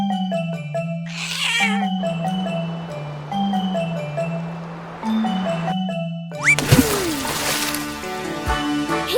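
Cartoon kitten meowing in a high, sing-song voice over bright children's music with jingly bell tones, loud and close, with a burst of sparkly chimes near the end.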